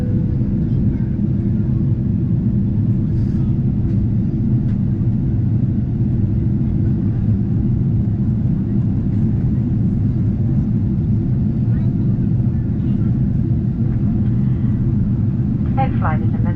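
A Boeing 777-300ER airliner descending to land, its cabin filled with a steady, loud low engine and airflow rumble throughout, with faint scattered clicks and rattles on top.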